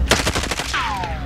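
Video game gunfire in a prison map: a rapid burst of close, loud shots in quick succession, followed by a falling whistling tone.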